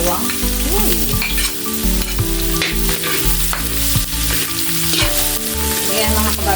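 Garlic sautéing in a hot pan, a loud, close, steady sizzle broken by frequent scraping and clanking stir strokes of a utensil against the pan, no talking.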